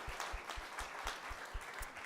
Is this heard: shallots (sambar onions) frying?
no